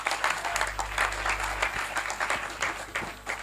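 Applause for six quiz teams at a quiz competition, a lively burst of clapping from the audience with a low hum underneath, fairly close and steady throughout.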